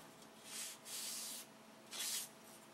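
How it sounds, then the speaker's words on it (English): Three quiet, short rasping strokes of a sanding block rubbing laser-cut wooden model airplane ribs, separated by brief pauses. "Take a sanding block and knock off any of the nibs."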